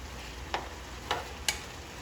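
Turkey necks brown in a hot pan with a faint steady sizzle, broken by three short sharp scraping stirs spaced through the quiet background.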